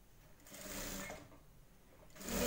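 A sewing machine stitches a blouse, its motor running in a quiet steady hum with rapid needle ticking that swells twice over a couple of seconds, close and alone.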